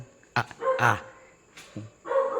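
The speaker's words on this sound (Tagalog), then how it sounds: "Tumatahol pa yung aso ko." A few sharp dog barks and yips in irregular bursts, moderately loud, with a faint steady electronic hum underneath, in a video game.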